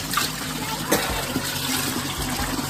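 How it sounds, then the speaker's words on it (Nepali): Cold water from a mountain spring trickles and splashes steadily, a constant close watery rush with a few brief louder spatters. "यहाँको पानीले मुख धुन सक्नुहुन्छ"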